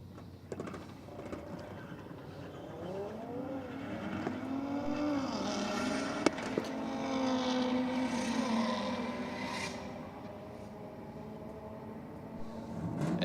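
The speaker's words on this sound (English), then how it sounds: "Got the Honda up against the Audi." Honda and Audi race cars roar past in a continuous engine drone with rising and falling pitch as they pass, moderately loud and without talk.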